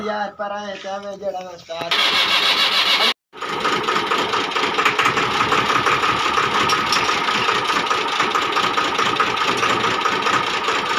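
Someone talks briefly before a diesel tractor engine, fitted with a newly installed diesel pump, cranks, catches and keeps running loud and steady nearby, with a brief cutout.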